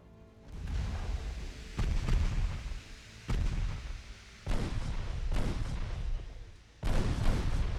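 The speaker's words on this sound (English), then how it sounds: "4 penetrating hits from the 13-inch guns." 13-inch naval guns firing in the Ultimate Admiral Dreadnoughts warship game, five heavy booming salvos spaced about a second or two apart, each with a sharp onset and a rumbling decay.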